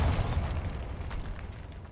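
In Hogwarts Legacy, a Bombarda spell explodes in a catacomb with a short, muffled boom, and a faint rumbling decay follows.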